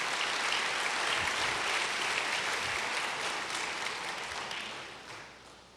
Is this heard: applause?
yes